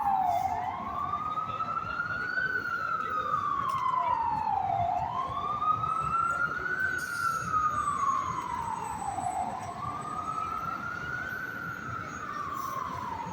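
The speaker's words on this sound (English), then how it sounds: "You hear the sound of an ambulance." An ambulance siren wails through Times Square in New York, a loud, slow rising-and-falling tone repeating over about thirteen seconds above a low city rumble.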